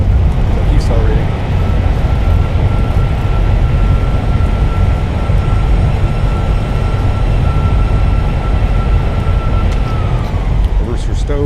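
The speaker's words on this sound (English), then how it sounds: "Reversers, nose down gently, maintain center line. Decelerating." Fenix A320 with IAE engines rolling out after landing in Microsoft Flight Simulator, thrust reversers deployed: a loud, steady broadband roar with a faint whine that holds throughout and tails off near the end.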